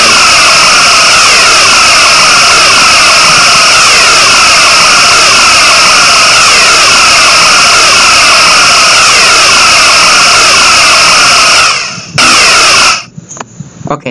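A plasma lance weapon in the game Space Engineers fires with a loud, harsh, continuous buzzing roar full of pulsing overtones. It holds for about twelve seconds, then cuts off abruptly, followed by a few brief stuttering bursts.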